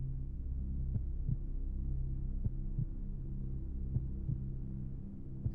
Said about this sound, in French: À qui sont ces battements de cœur?